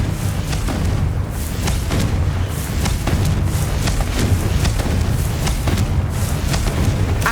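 Confringo fire spells blast again and again in Hogwarts Legacy, a dense run of loud booming explosions with sharp bursts that recur every second or so over a continuous low rumble.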